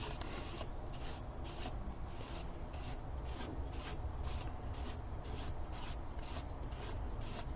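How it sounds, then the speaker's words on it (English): An air rifle shroud on a Beeman being turned by hand onto a long thread: a faint, steady metallic rasp with regular scraping pulses, close and continuous. "You can see the shroud turning as that's screwing in"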